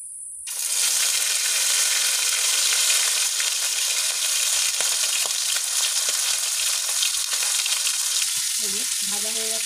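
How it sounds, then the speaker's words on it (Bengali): Fish slid piece by piece into smoking-hot oil bursts into a loud, sudden sizzle that holds as a dense, steady hiss, with faint scraping toward the end. "তো মাছ ছাড়বো, একটা একটা করে ভেজে নেব"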